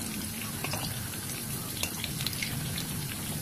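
Pieces of chicken coated in a light egg-and-flour batter fry in hot oil with a steady, close sizzle and scattered small pops and crackles.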